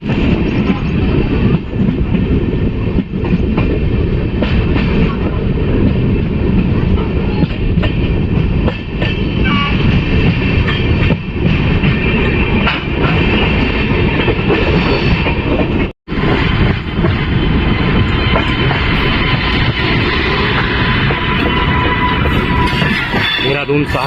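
The Dehradun–Tanakpur Express rolls into Laksar railway station, a loud, close, continuous rumble of wheels and carriages with rhythmic clicking over rail joints, a momentary dropout midway, and speech mixed in.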